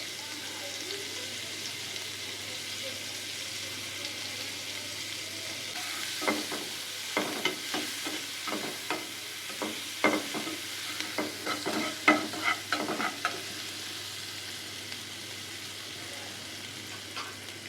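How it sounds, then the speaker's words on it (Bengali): Onions frying in oil in a pan after prawns are cooked, a soft steady sizzle that gives way to a run of loud stirring scrapes and clatters, close and without talk. "এই প্যানে দিয়ে দিচ্ছি পেঁয়াজ।"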